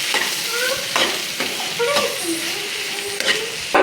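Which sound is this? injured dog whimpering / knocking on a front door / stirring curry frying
stirring curry frying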